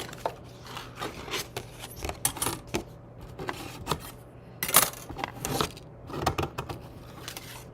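A die cutting machine crunches and rasps through paper for gift boxes, with irregular scraping bursts and clattering clicks at close range, loudest around the middle of the pass.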